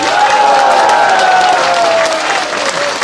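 Loud, sustained applause with cheering from a crowd at a Korean political campaign rally, dense and continuous throughout, with a sung or shouted tone weaving through the clapping.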